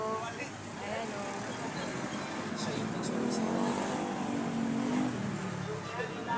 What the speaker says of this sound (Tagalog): Rush hour po ngayon kaya marami na namang sasakyan.